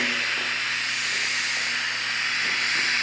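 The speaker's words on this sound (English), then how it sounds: "this is the pad that generates the vibroacoustic noise." The vibroacoustic pad of a Magofon pulsed EMF device gives a continuous, even hiss-like drone with a faint low hum, running steadily throughout, unchanging in level.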